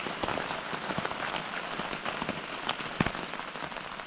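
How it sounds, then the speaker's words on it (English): Steady rain patters outdoors during a test of a Fjallraven Wind Sack emergency shelter, a dense, even hiss of close drops with occasional sharper taps and no talking. "As you all can hear, it's still raining, and it has been for like the last hour and a half."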